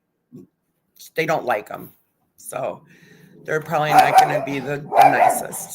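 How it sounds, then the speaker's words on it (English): A pet dog barks in short bursts inside a home, mixed in with a person talking steadily over it. "Sorry about my dog."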